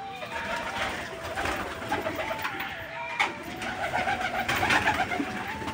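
Pigeons cooing steadily while pecking at freshly made grit, their soft repeated coos close by over a low background hum.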